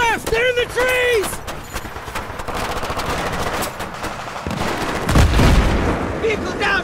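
Heavy gunfire and bursts of automatic fire in the video game Battlefield 3 during a road ambush in trees, with loud booming impacts, continuous and close, while voices shout over the shooting.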